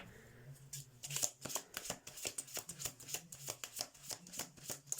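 Tarot cards being shuffled produce a rapid series of crisp riffling and slapping bursts in a quick, uneven rhythm, close and fairly quiet, with no speech.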